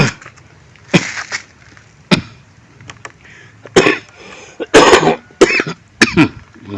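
Someone coughs and clears their throat several times close up, in short harsh bursts separated by quiet gaps, with a few light knocks in between.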